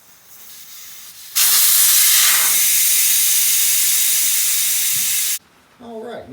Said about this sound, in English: take the valve stem out.